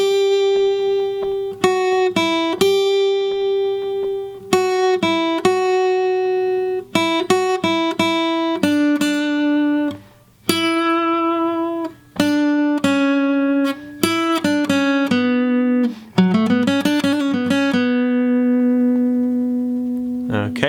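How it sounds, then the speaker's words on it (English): Acoustic guitar plays the lead part of a song, ending with a small flamenco-style lick, as clear single-note phrases and ringing strums separated by short gaps, close and bright. "But it sounds great on the acoustic guitar."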